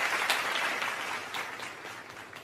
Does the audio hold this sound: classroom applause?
yes